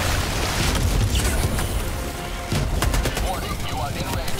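An artillery strike in the Helldivers video game thunders loud and close as a dense, continuous barrage of blasts and rapid gunfire-like cracks, with short lulls between waves.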